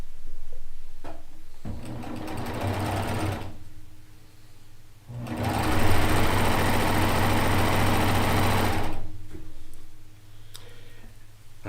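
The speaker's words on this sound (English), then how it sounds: "Now we can sew these together. Get our rows sewn together." A sewing machine stitches quilt rows together for a Kaffe Fassett-style quilt, running in two bursts, a shorter one and then a longer steady run, with a low motor hum and rapid needle ticking, close by.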